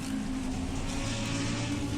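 A race car engine in the Assetto Corsa Competizione racing game drones at a steady, loud, continuous pitch, a sustained buzzing roar with no talk over it.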